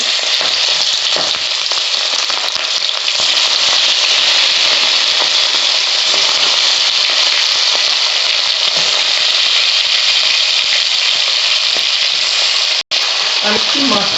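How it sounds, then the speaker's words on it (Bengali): Loud, continuous sizzling and crackling of tangra fish frying in hot oil in a wok, close up and steady, with a brief break near the end. "মাছটা আমি দিয়ে দিচ্ছি কড়াইয়ে"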